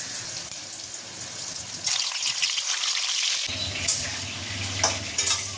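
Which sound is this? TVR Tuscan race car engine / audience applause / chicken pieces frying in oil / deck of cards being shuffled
chicken pieces frying in oil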